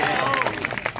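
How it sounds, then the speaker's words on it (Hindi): Brief scattered clapping from an audience at a devotional gathering, a short burst of hand claps heard close and mixed with a speaking voice. "हम आपके लिए ताली बजा रहे हैं"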